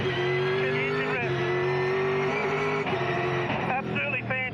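A V8 Supercar engine drones steadily and shifts pitch through gear changes and rev-matching, loud and continuous under someone talking.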